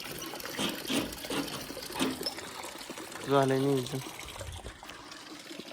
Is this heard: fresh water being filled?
yes